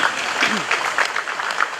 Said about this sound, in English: you should clap for that partnership